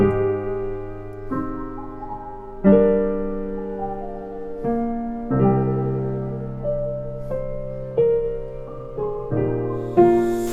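Mellow electric piano chords with a wide, shimmering Juno-style chorus and a splashy spring-reverb tail, played alone in slow, sustained changes.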